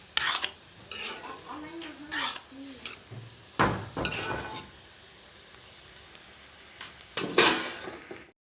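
Banana stem curry being stirred in a metal pan with a ladle, giving intermittent scraping clanks and scrapes in separate bursts, with faint sizzling between strokes.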